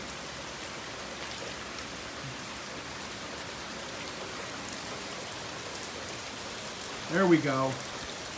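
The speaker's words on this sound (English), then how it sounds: "It's really coming down now." Steady, dense rain falls on garden plants planted in June, a continuous close hiss that builds into a downpour, with a brief spoken remark near the end.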